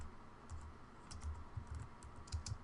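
Quiet, close typing on a computer keyboard, a quick irregular patter of soft key clicks.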